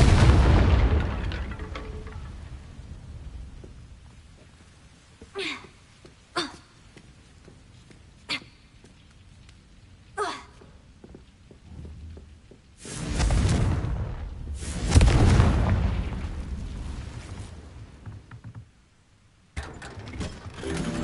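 Confringo blasting-spell explosions in a video game: deep, rumbling booms at the start and again midway, separated by scattered mechanical clicks and short whooshes, loud and close.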